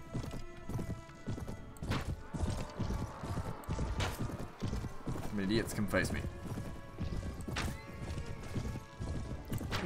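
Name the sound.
horses galloping in Mount & Blade Warband video game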